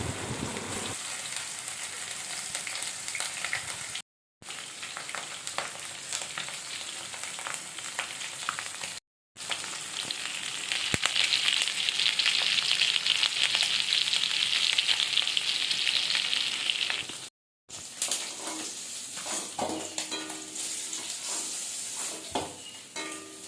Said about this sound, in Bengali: এখানে প্রথমে মাছগুলোকে ভালো করে ভেজে নেওয়া হচ্ছে